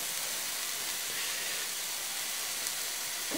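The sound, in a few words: hot branding iron sizzling on steak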